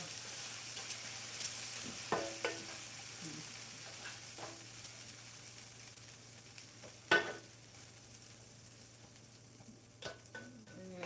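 Shrimp sizzle steadily in a frying pan for a breakfast bowl, with a soft continuous hiss and a few scattered clinks and scrapes as they are stirred, fairly quiet and with no talking.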